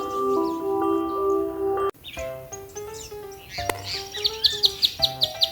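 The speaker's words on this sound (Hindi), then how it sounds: "चुन चुन करती आई चिड़िया" Chirping birdsong in a Hindi children's rhyme: sustained musical tones give way to a quick run of bright, rhythmic chirps that grow louder toward the end, set against a light musical backing with no spoken words.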